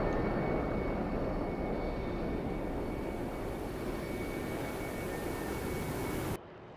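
A MiG-21 and an F-5E jet in the DCS flight simulator, a steady loud roaring engine rush that holds evenly for several seconds and then cuts off abruptly near the end.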